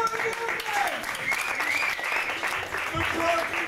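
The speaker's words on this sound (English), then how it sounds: "A round of applause." Steady applause from a crowd, sustained clapping filling the space with a few cheers or voices mixed in.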